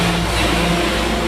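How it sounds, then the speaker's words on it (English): A rubbish lorry drives past, its engine a steady, loud, low rumble throughout without a clear rise or fall. "That's a rubbish lorry going by"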